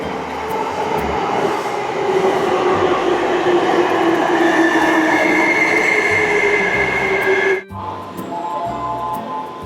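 A train in a Tokyo station passes close and loud, its wheels grinding and squealing along the rails in a steady roar that cuts off abruptly before a quieter hum continues.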